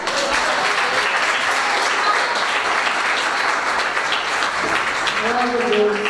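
Sustained applause from a church congregation during a worship service, steady and full throughout, with a voice faintly audible beneath the clapping.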